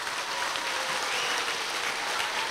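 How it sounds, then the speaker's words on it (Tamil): Audience applause at a training closing ceremony in a Chennai hall, a steady, dense wash of clapping from many hands that runs loud and even throughout, with no voices over it. "அவங்களுக்கு ஒரு பெரிய கைத்தட்டு கொடுங்க."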